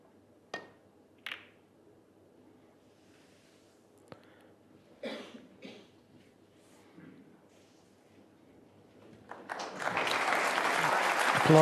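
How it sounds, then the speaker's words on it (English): Near silence in a snooker arena at the 2024 World Snooker Championship semi-final, broken by a few isolated coughs and small noises, then a crowd bursts into loud, sustained applause that builds and continues to the end. "Applause from the crowd"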